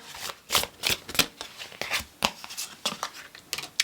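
Tarot cards are shuffled by hand in a series of quick papery riffles and flutters, close up and fairly loud, with no talk.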